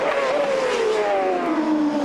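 A CART open-wheel race car on a qualifying lap at the 2002 Australian round, its engine holding a loud, steady high-pitched drone that slowly falls in pitch as it runs close by, with no voices over it.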